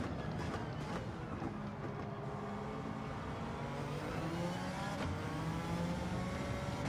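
A Suzuki Escudo Pikes Peak race car in Gran Turismo 7 accelerates through the gears, its engine a steady, loud drone that rises in pitch, drops at each shift and climbs again, with no talk.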